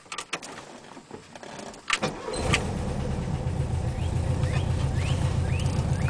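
Volkswagen Super Beetle with its original oil bath air filter: a few clicks and clunks, then the starter cranks briefly and the engine catches, settling into a close, steady, rumbling idle.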